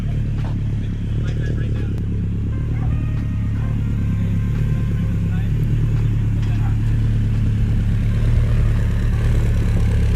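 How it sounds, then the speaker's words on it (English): A buggy's engine runs during a street test drive, giving a steady, fairly loud rumbling and clattering drone throughout, with no break in the sound. "we're doing a little bit of test driving here, getting ready to go up and down the street again"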